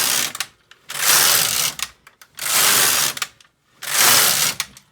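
The carriage of a Needle Beetle II knitting machine sweeps back and forth across the needle bed to knit rows, making four loud mechanical whooshing passes with short clicks and pauses between them.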